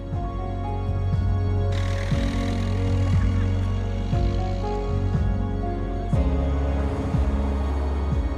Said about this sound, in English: We leave Gorem by tractor.